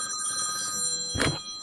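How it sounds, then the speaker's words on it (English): An alarm rings steadily like an old rotary telephone bell, a bright metallic trill with a brief louder burst near the end. "good Lord, you got a rotary phone."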